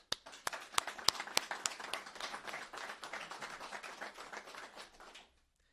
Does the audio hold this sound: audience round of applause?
yes